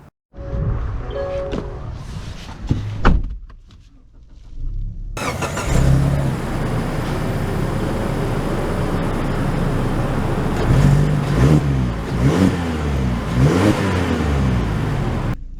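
A 2024 Mazda CX-30 Turbo heard from inside while driving, a brief door and handling noise giving way to continuous engine hum and road rumble, with rising and falling revs as it accelerates through gears.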